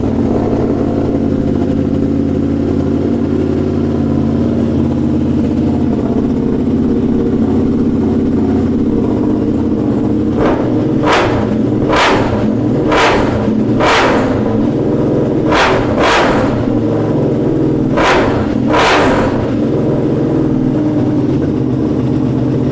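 A Ducati Streetfighter V2 fitted with an Austin Racing exhaust idles loudly and close, then fires off about nine sharp throttle blips in quick clusters, each rev rising and snapping back to the rumbling idle.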